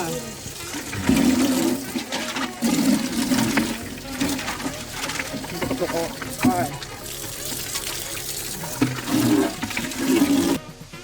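Water splashes and rushes loudly while the 12-litre tank of a YILI industrial wet-and-dry vacuum cleaner is rinsed, a continuous close gushing with someone talking over it.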